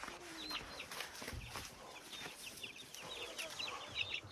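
Village chickens cluck softly at a distance in short, scattered calls over quiet outdoor ambience, with brief rustles in between.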